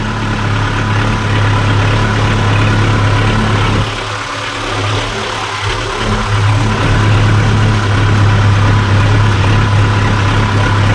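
A heavy tractor engine idles steadily and loudly throughout, a continuous low mechanical drone that dips briefly in the middle, after puddling work in a rice paddy.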